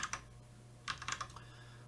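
Keys tapped on a computer keyboard in two short bursts of quick, light clicks separated by a pause, fairly faint in a quiet room.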